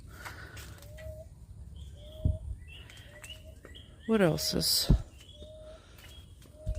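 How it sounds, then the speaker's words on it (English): Birds sing in an orchid garden on a morning walk, giving scattered clear whistled notes and chirps at moderate distance, with a person talking briefly in the middle. "Birds are singing."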